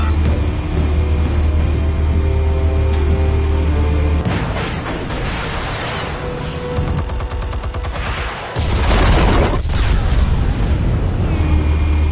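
Explosives detonating in a video game: a heavy, steady rumble gives way to a cluster of loud crackling blasts and rapid popping, then one more powerful boom rolls out near the end.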